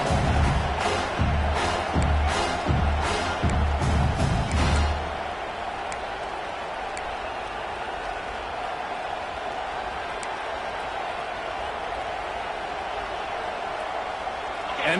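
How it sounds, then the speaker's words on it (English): Home crowd roaring throughout a college football video game, a steady broad wash of cheering under bursts of louder, rhythmic sound in the first five seconds, then a sustained even roar to the end. "how nice is it to have the home crowd going absolutely bananas?"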